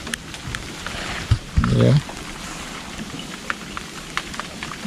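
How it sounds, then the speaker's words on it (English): Rain falls steadily outdoors during a small fishing trip by the water, a constant soft hiss with scattered drop ticks throughout, and a short murmured voice and a brief thump partway through. "Good amount of rain."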